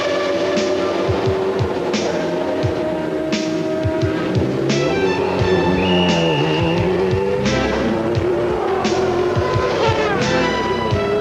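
A McLaren race car lapping a track, its engine note rising and falling through gear changes, loud and sustained, with pass-by sweeps and a brief tire squeal.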